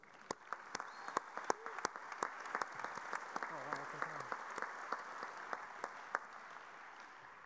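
Applause from an audience at the World Solar Challenge solar car race event, steady crowd clapping with sharp individual claps standing out, sustained for several seconds at moderate distance.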